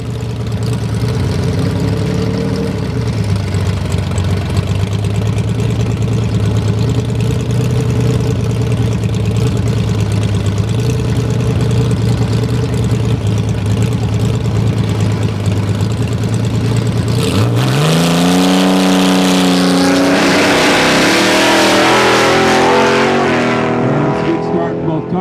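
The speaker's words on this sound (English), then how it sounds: "We'll see whether or not a blown TA can run down a 6-cylinder dragster and not break out." A blown Trans Am and a six-cylinder dragster idle loudly at the drag strip, their steady engine drone holding for several seconds before both launch with a sharp surge of rising revs. An announcer talks over the engines.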